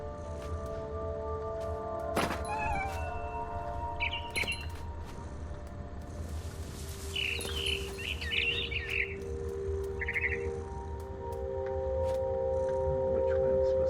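A barn swallow returning to its nest in the video game What Remains of Edith Finch chirps in short, scattered bursts over a low steady ambient hum, brief bright tweets recurring across the scene.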